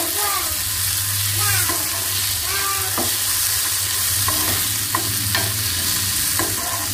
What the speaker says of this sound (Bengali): দিয়ে সুন্দর করে এটাকে একটু ভেজে নেব।